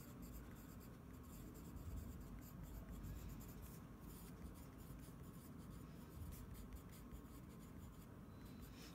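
Pen or pencil writing on paper notecards makes a faint, steady scratching and rubbing that continues for several seconds at close range, very quiet and without talk.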